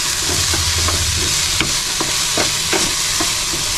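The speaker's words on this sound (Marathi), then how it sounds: "आता हे सर्व जे 4ही भाज्या आहेत ना आपल्याला आता परत 1 मिनिटासाठी आपल्याला फ्राय करायचे आहेत" Mixed vegetables fry in ghee in a pan with a loud, steady sizzle, while a spoon stirs them with intermittent scraping knocks throughout.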